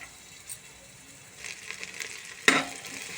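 Garlic fries in butter inside a pressure cooker for goat trotter soup. The sound is a quiet, soft sizzle that rises partway through, with a sharper stir or scrape near the end.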